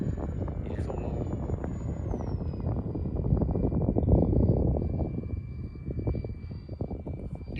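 A J-65 powered light airplane drones at a distance in strong wind, its engine note steady under heavy microphone buffeting that swells and fades.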